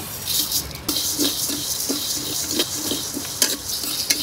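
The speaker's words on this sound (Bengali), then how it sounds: "আস্ত ধনিয়া, জিরা, মৌরি, পাঁচফোড়ন, ছোট এলাচ আর হচ্ছে গোলমরিচ ভেজে নেব" Whole coriander, cumin, fennel, panch phoron, green cardamom and black pepper fry dry in a pan for mango pickle, with a steady close sizzle and regular scraping stirs about every half second.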